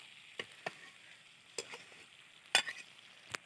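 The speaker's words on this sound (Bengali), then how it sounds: "তাই জন্য এটাকে একটু কষা কষা করব।" A curry is sautéed and stirred in a pan in a home kitchen, giving a faint background sizzle broken by a few sharp spatula scrapes and clacks against the pan.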